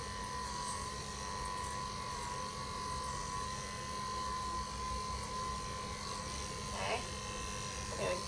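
Electric dog clippers with a size 7 blade trimming around a Shih Tzu's head, a steady close motor buzz running throughout with a brief louder moment near the end.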